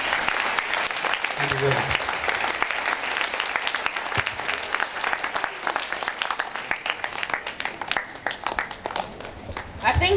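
Enthusiastic audience applause at the Nigeria Space Ambassador Scheme launch, a steady wash of many hands clapping that swells and fades over several seconds, with a speaker's voice briefly heard over it near the start.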